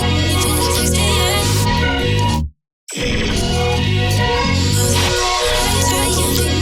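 A dense, smeared wash of a whole song resampled through the Quanta granular synth churns loudly, cuts to a brief silence, then resumes with shimmering fragmented tones.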